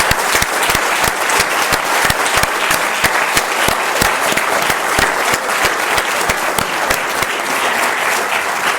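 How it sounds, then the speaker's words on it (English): Loud, sustained applause from a summit audience honoring the organizers, with individual nearby claps standing out sharply over a dense crowd clapping that holds steady to the end. "let's have a round of applause for the organizers"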